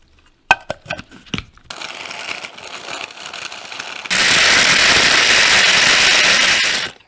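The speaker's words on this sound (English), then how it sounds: "My coffee grinder." An electric coffee grinder whirs loudly and steadily for a few seconds after some clicks and a quieter mechanical hum, then cuts off abruptly.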